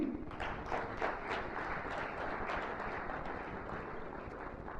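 An audience at an international conference session applauds to welcome Sofia Sebti, a dense, steady wash of many hands clapping at moderate volume, continuous for several seconds.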